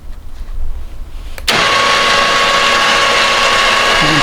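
A Polaris Ranger's front winch pulls rope through pulleys mounted in stubs, starting abruptly with a loud, steady whirring motor whine that holds unbroken after a brief quieter lead-in.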